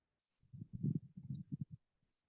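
Typing on a computer keyboard, a quick run of close, soft clicks and taps over about a second and a half, fairly quiet and with no talking.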